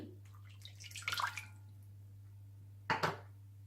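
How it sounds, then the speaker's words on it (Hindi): Water splashes into a cooking pot in two short bursts, the first longer and the second brief, as one cup of water is added to chicken, over a steady low hum with no talking. "और इसमें डाल लीजिए 1 कप पानी"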